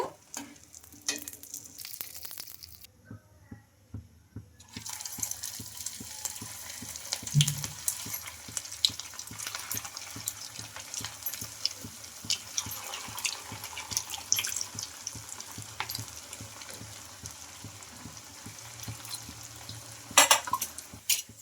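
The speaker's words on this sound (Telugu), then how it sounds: "మనం ఈ ప్రాసెస్ అంతా ఫ్రై చేసుకోవడం హై ఫ్లేమ్లోనే ఫ్రై చేసుకోవాలండి" Coconut semolina snacks frying in oil over a high flame, a steady close sizzle with occasional clinks and stirring, after a brief quiet start.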